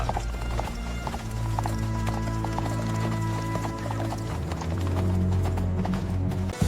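Steady clip-clop of horses' hooves used as a storytelling sound effect, with a whinny, set over a sustained tonal background bed and heard at moderate loudness without speech.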